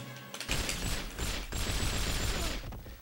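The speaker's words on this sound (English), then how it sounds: "Let's shoot that radio." Rapid-fire gunshots aimed at a radio in a video game, a dense, loud burst of continuous shooting lasting a couple of seconds after a brief quiet start.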